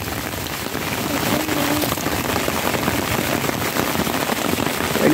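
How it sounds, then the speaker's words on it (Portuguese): Heavy rain pours steadily onto a shelter at a riverside fishing spot, a dense, loud hiss of drops drumming without pause throughout. "Muita chuva, muita chuva."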